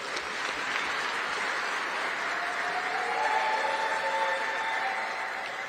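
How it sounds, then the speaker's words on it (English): A large audience at a memorial gathering applauds a young male singer, a broad, even roar of clapping that holds steady throughout, slightly reverberant with a faint tonal hum underneath. "Can we clap for this young man?"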